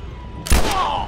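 A single gunshot in The Last of Us, one sharp loud blast with a brief ringing tail, close and isolated against a quiet background.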